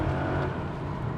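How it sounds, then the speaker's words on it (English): A Mercedes CLK55 AMG holds second gear as its engine revs rise under acceleration, giving a loud, steady, dense roar heard from inside the car throughout. "it will stay in 2nd now as the revs are rising, and as I get on the accelerator"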